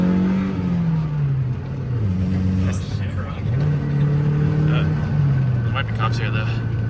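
A Honda S2000 engine pulls hard through its short gears, the revs climbing and dropping with each quick shift, loud and close inside the car while people talk over it.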